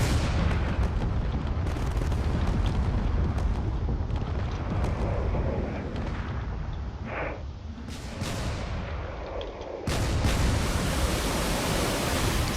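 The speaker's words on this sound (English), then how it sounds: "There's a lot of cannon shots going back and forth." Dense warship cannon fire in the game Drone Wars, a continuous loud rumble of overlapping booms and blasts with a few sharper reports, no talking.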